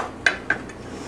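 A metal pan set on a stovetop while making chocolate peanut butter oatmeal no-bake cookies gives two sharp clanks in quick succession, close and bright, then quiet.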